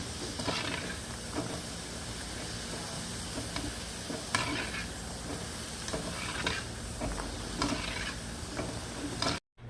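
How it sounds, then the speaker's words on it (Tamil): Corn frying in very hot oil, a steady dense sizzle and crackle with scattered sharper pops, close and continuous throughout. "இந்த கார்ன் பொரிக்கும் போது மட்டும் எண்ணெயை நல்லா சூடாக வச்சுக்கோங்க"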